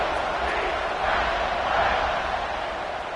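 Stadium crowd in a football video game roars as a steady, dense wash of cheering noise, loud and unbroken throughout with no distinct voices standing out.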